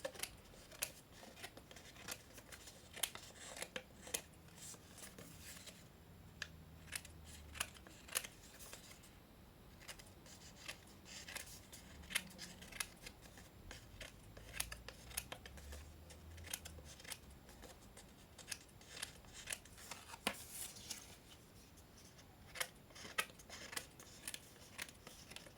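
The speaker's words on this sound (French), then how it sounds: "Je coupe tout ça bien droit." Scissors cut paper straight for a handmade boy's birthday card, giving repeated quiet snips and rustles spread through a long stretch with no voice.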